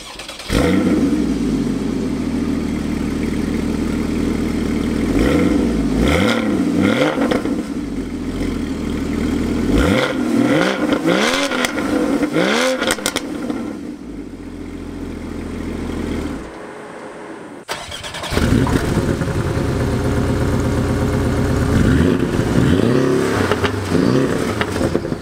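A Porsche 718 Boxster GTS four-cylinder engine revs hard through repeated rising sweeps and gear changes, loud and close. It drops briefly to a lull before pulling strongly again.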